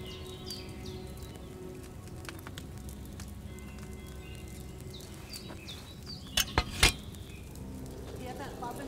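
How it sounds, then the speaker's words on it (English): Steady low bubbling and simmering of a cauldron over a flame in the video game Kingdom Come: Deliverance II, with a soft crackle of flame, some chirping in the background and a few sharp clinks near the end. "Hear that bubbling? It's boiling."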